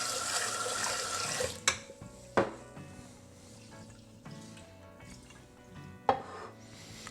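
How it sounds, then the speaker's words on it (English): Rice is rinsed with running water in a pot before cooking in a new Japanese rice cooker, with a steady close trickle and splash plus a few sharp knocks and clinks. "And again, we're rinsing."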